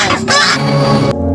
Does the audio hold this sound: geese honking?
yes